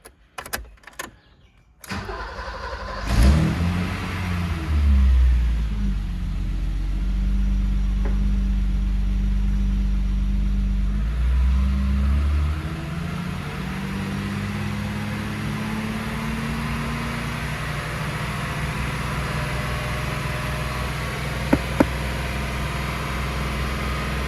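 A 1986 BMW E30 325e cranks and fires after a timing belt replacement, its engine catching with a rising roar before settling into a steady, loud idle that runs on for the rest of the clip, nearby and with no talking.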